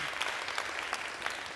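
Audience applause at a summit presentation, a steady, dense wash of clapping from a crowd, moderately distant and without speech.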